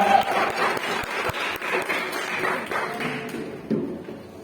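A church congregation claps for the Lord, dense scattered handclaps sustained through the moment with a few sharper taps standing out, fairly close and steady before tapering slightly.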